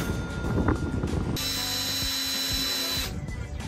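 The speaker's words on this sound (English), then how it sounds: "when you're drilling, you don't want to push really hard because when you do, it kind of warps it a little bit" A power drill bores into a camper van's wall for a window install, with scraping and handling noises first, then the motor whines steadily for about two seconds before winding down.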